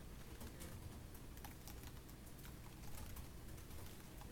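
Steady typing of a username and email on a laptop keyboard, a continuous run of quick light key clicks that stays fairly faint and even from start to finish.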